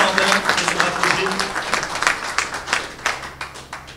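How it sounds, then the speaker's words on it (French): Attendees at an official 8 May commemoration ceremony applaud a war veteran, a dense, steady round of clapping from a nearby crowd that holds at even strength with faint voices underneath. "On l'applaudit, s'il vous plaît"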